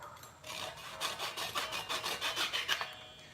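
Handsaw cutting through a small wooden piece, steady back-and-forth rasping strokes in a quick even rhythm, close and fairly loud, with no talking.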